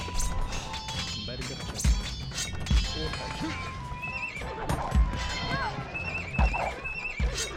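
Horses neigh and whinny repeatedly over galloping clip-clop hooves and battle crashes in an Age of Empires 2 Mongols match, loud and close amid a busy game soundscape, with someone talking over it.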